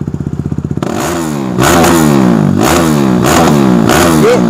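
A Kawasaki Z900 superbike starts with a fast idle chatter, then revs hard through repeated rising and falling throttle blips, loud and close.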